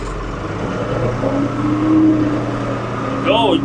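A Ford 550 backhoe shoves over a cut tree: a steady diesel engine drone that rises in effort and pitch as it pushes, with a short creaking, squealing strain near the end.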